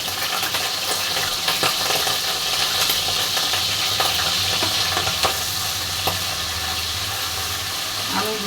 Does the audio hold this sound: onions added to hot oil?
yes